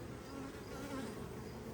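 Bees laden with pollen buzz in a dense, steady drone close by, with no voices over it.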